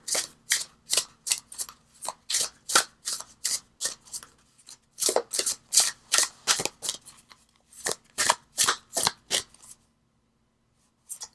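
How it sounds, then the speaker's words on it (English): Tarot cards are shuffled close by in about two dozen quick, crisp bursts with a steady rhythm, followed by a short silence near the end. "Okay, keep shuffling."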